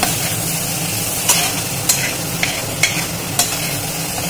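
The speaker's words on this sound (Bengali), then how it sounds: "এবার মশলাটা আমি মটরশুঁটির সাথে ভালোভাবে নেড়ে চেড়ে কষে নেব" Spices and green peas being stir-fried in a pan for a matar aloo curry: a constant oil sizzle with about five distinct scraping strokes of the spoon, close and alone.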